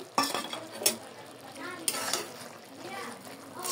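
A spoon stirring mustard and poppy seed paste into sajna chorchori, a drumstick and potato dish, in a pan: close scraping and clattering strokes with a soft sizzle underneath.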